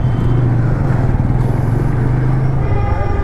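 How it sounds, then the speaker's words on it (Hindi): Dense traffic at a busy, jammed crossroads in Manjhanpur, India, recorded from a moving motorcycle: loud, steady engine rumble and road noise with nearby vehicles close by. "ये अपना मंझनपुर चौराहा है। चौराहा है मतलब जाम है।"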